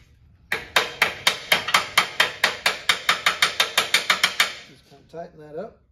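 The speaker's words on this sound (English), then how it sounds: "Use my hammer a little bit." Metal hammer tapping sheet metal into place on a cab-over Chevy van conversion, roughly twenty sharp ringing strikes in a steady rapid rhythm, close and loud, followed by a brief voice.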